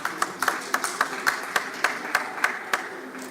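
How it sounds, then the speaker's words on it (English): Applause for panelists at an education talk: one nearby pair of hands claps in a steady, evenly spaced beat, standing out above softer scattered clapping from the rest of the audience. "So please, a round of applause for our panelists."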